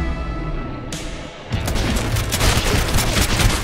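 A hand grenade explodes in the Maximum Action shooting video game, a loud boom breaking in after a rumbling lead-in, followed by dense, continuous gunfire and crackling blasts.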